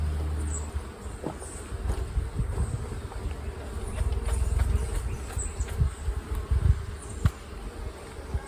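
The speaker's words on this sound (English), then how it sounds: "See what's even possible for me to shake off all the bees on here." Honey bees shaken off hive frames during a colony inspection, a dense, close, continuous buzz of many insects with intermittent thumps and knocks from handling the frames.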